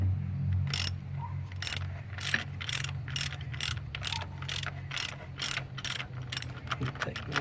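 Repeated sharp ratcheting clicks of a socket wrench tightening thermostat housing bolts on a 1999 GMC 2500 truck, about a dozen bursts in uneven rhythm, close up over a low background hum.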